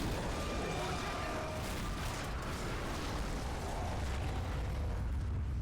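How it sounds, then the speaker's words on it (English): A loud explosion in the zombie shooter Left 4 Dead, a sustained booming blast with rumbling debris filling the scene, heard under a caster's voice. "Very loud explosion."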